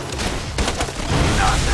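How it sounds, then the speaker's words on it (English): Borderlands 2 combat: a sudden in-game explosion and dense bursts of gunfire, loud, rapid and crackling, stacked close together in a short chaotic volley. "Okay, random explosion."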